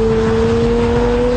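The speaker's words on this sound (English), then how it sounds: "You hear the revs flare there." A car engine revs and flares as it crests a hill on a driving route, giving a loud, sustained, steady-pitched motor drone heard from close by with no talking.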